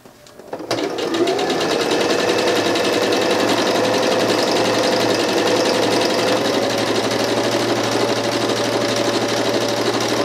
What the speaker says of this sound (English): I'm going to sew all the way down the side, along the bottom and up the other side.